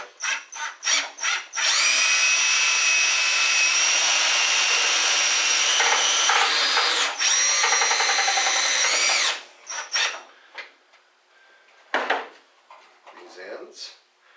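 A screw gun driving a self-tapping screw into a T8 retrofit light fixture, heard as a loud, close, high whine lasting several seconds, with short bursts and clicks of handling before and after.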